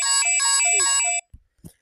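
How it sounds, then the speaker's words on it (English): An electronic phone ringtone plays a bright, repeating melodic pattern for about a second, loud and close, then stops and is followed by a few soft thumps. "His phone is ringing."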